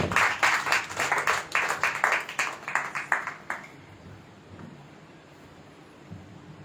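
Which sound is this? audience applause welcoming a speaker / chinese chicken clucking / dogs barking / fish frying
audience applause welcoming a speaker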